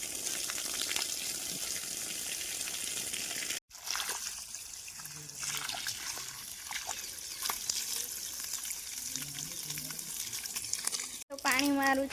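Water pumped by an electric motor pours steadily into a household tank, a continuous trickling rush that runs for the full length with two brief interruptions, with faint voices underneath.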